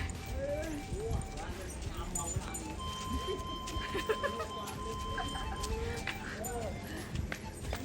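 Horse hooves clip-clop on the ground with faint whinnies, moderately distant under a busy outdoor background with chickens and people talking.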